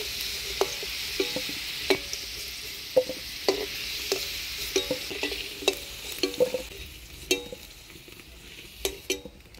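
Potatoes frying in a pan, a soft, low sizzle behind irregular clicks and scrapes as they are stirred, the taps arriving every second or so and quiet overall.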